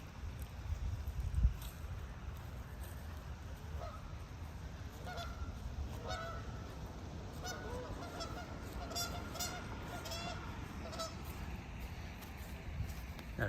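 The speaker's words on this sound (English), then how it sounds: "Got a couple of geese over there yelling at each other." A couple of geese honk back and forth at a distance in a park, repeated nasal calls rising in the middle over steady outdoor rumble and wind.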